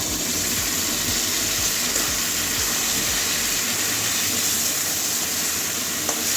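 Ginger and green chilli paste frying in a pan gives a continuous loud hiss, with a low rhythmic rumble under it for the first few seconds and no voices.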